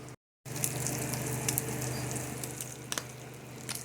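Organic ground beef fries crispy in a pan on a stovetop, giving a close, steady crackling sizzle with scattered pops and spatters after a brief moment of silence at the start.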